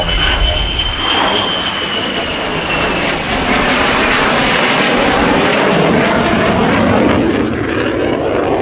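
Lockheed Martin F-35A fighter jet of the RAAF flying an airshow display at Avalon, a loud continuous roaring engine rumble that swells and shifts in pitch as the aircraft passes, with no talk.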